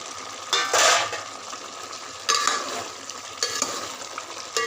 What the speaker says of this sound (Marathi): आता आपण याच्यात पनीर टाकूया